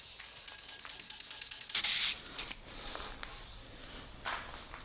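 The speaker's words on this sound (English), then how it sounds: "Alright, so we got everything sanded up." An epoxy table slab is sanded by hand, making soft rubbing and scraping strokes with a brief louder burst midway; nearby and fairly quiet, with no talking.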